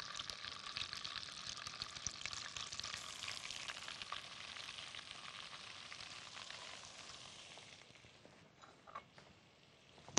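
Flour-coated chicken breasts fry in hot oil with a dense, continuous sizzle and crackle that holds steady throughout, easing slightly toward the end with a few small clatters.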